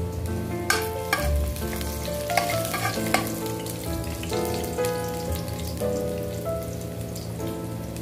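Garlic sizzles in cooking oil in a frying pan (kawali), a steady dense crackle with scattered sharper pops running the whole time, with no talking.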